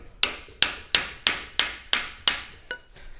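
Seven sharp, evenly spaced knocks sound close and loud as a part is forced into place on a trail motorcycle chassis built around a Suzuki Satria FU engine. A fainter final tap follows.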